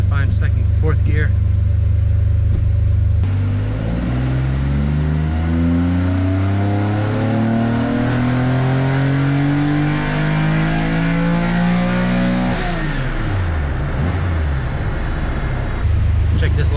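An air-cooled Porsche 911 engine with individual throttle bodies climbs steadily through the revs on a full-throttle run, loud and close, then drops off before picking up again near the end.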